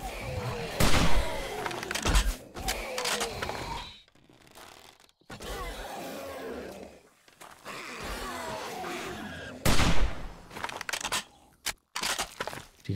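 Hunting rifle shots in the survival video game 7 Days to Die: several sharp, loud bangs spaced irregularly, with crunchy impacts and game clatter between them.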